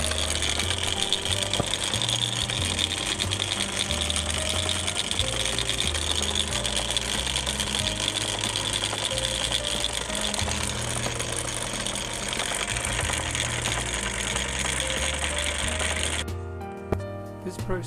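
An antique Wade lathe runs with a continuous loud mechanical whir and rattle of gears and belts, steady throughout before cutting off near the end.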